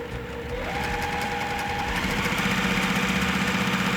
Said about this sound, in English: I'm gonna sew directly on my line this time